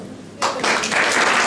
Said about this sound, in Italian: prima un applauso